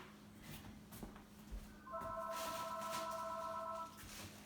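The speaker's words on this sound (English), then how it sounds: "Ooh, that's my phone." A mobile phone rings faintly in a quiet room, a soft electronic tone lasting about two seconds over low background noise, with no speech.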